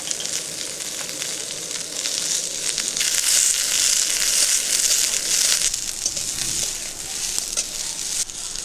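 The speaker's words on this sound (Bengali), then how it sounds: "ওই তেলের মধ্যেই বরবটিগুলো ভেজে নিচ্ছি।" Yardlong beans fry in hot oil, giving a steady, close sizzle and crackle throughout that swells louder midway, with faint stirring and no talk.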